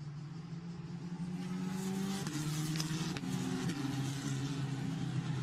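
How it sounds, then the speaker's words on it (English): Formula Renault race cars with 1800cc turbocharged Renault engines turning through a corner at Imola, heard as a steady, sustained engine drone with slowly shifting pitch, moderately distant and with no voices over it. "All of these 1800cc turbocharged Renault engine cars."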